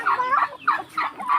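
Turkeys gobble close by on a farm at feeding time, with several loud, warbling calls that come in quick succession.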